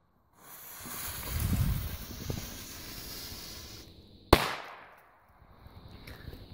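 A Chinese firecracker from a German Aldi firework set goes off outdoors, a soft fizzing fuse hiss building for a few seconds before one sharp, loud bang, followed by quiet.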